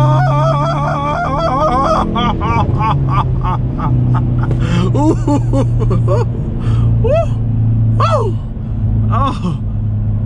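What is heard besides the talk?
Hyundai Veloster N turbo engine revving on downshift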